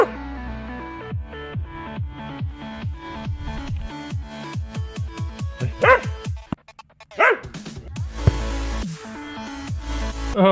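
Dogs bark in quick, loud bursts as they play outdoors, with yips and a short whimper between the barks.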